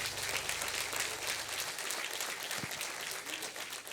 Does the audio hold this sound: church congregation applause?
yes